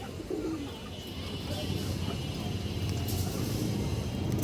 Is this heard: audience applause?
no